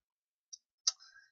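A computer mouse right-click during video file sorting: a tiny first tick followed by a sharper, close plastic click, quiet and isolated in silence.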